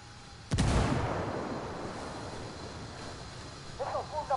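A frag grenade explodes in Ghost Recon Wildlands with a single loud, sharp blast that rolls into a long rumbling decay, while brief voiced calls rise near the end.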